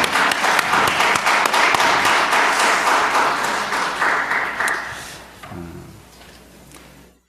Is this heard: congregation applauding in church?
yes